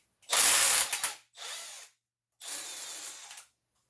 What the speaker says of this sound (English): There's one bolt here. It's a 13mm socket.